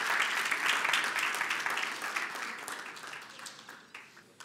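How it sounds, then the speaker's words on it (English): Audience applause rises for a debate team standing up at a televised school debate final between Glory Academy and Mother Mary International, loud at first and slowly fading. "Let's give them a round of applause as they stand up"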